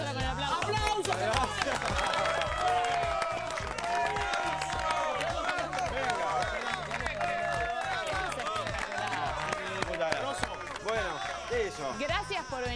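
A studio audience applauds and cheers at a cooking show making homemade almendrado, with dense clapping that runs throughout under a lively voice talking over the crowd.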